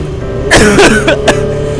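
A couple of harsh, close coughs in quick succession, loud and abrupt, followed by quiet.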